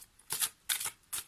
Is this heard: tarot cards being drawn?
yes